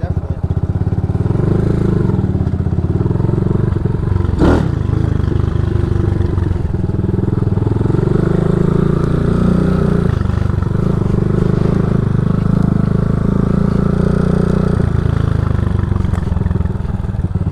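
A motorcycle engine runs close by on a muddy offroad trail, a steady rough mid-pitched rumble with one sharp clatter early on, while people chat over it.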